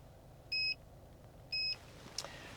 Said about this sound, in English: Those 2 beeps you heard were the confirmation chirps to say it's accepted my code